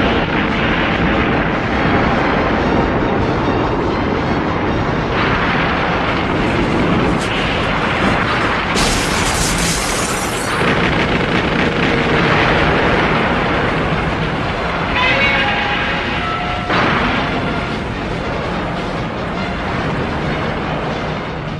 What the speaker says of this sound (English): Begin phase three. Stationary blasting. Ignite!